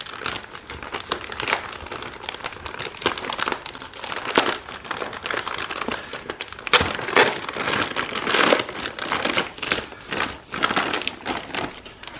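Plastic packaging bags are crinkled and pulled off a Home Dynamix Bazaar natural beige indoor area rug, a continuous close run of crackling, rustling bursts with a few louder crunches, no talking.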